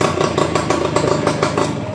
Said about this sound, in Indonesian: Enak, engkol sekali langsung hidup.